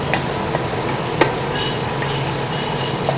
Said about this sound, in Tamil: இப்போ அந்த இஞ்சி பூண்டு பேஸ்ட் வந்து நல்லா வதக்கியாச்சு